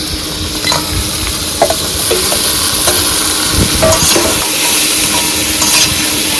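Fried crabs are stirred into a sizzling spiced masala. A steady frying sizzle runs throughout, broken by scraping stirs and small clinks of a utensil in the pan.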